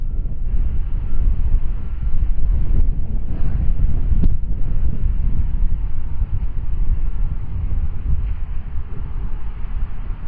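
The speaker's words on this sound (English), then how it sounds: "Now we've got tailwind, crazy tailwind." A strong tailwind blows across an open disc golf course, buffeting the microphone with loud, continuous rumbling gusts for about ten seconds. No voices can be heard.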